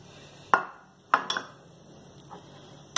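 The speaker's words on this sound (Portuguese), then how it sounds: "E vamos mexer bem" A few sharp, separate clinks of a utensil against a pan as cornstarch is stirred into condensed milk off the heat, spaced irregularly over a few seconds in a quiet kitchen with no speech.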